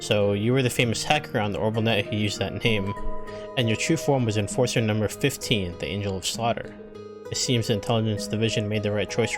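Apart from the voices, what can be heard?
No everyday noise stands out behind the speech.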